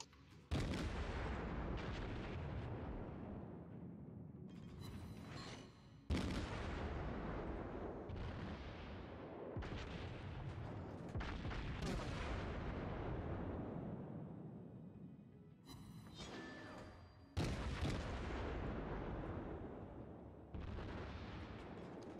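Heavy naval guns from warships in World of Warships boom in a series of loud, deep salvos several seconds apart, each blast rolling off into a long rumbling decay.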